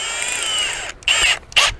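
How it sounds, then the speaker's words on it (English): A power drill with a quarter-inch bit pre-drills holes into a wrought iron gate post, whining steadily and then in two short, loud bursts close up. "now I'm gonna pre-drill my other two holes."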